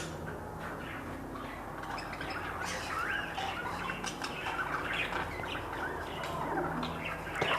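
Pet birds in an enclosure chirp and tweet in a busy overlapping chorus, with occasional squawks and wing flutters over a low steady room hum.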